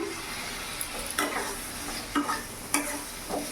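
Prawns frying with spices in a pan over a raised gas flame, a constant sizzle broken by a few spatula stirs and scrapes, close up, no voices.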